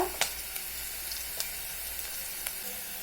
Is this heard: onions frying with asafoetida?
yes